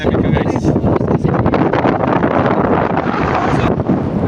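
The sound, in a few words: strong wind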